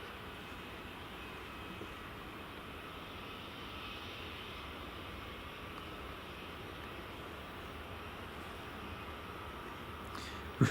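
A jet in oneworld livery roars steadily at Edinburgh Airport's runway 24, a broad continuous engine rumble that holds at a constant loudness throughout, ending with a sharp click.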